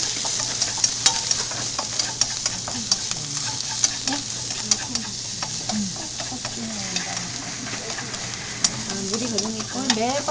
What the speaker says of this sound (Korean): 양파를 먼저 좀 볶아줍니다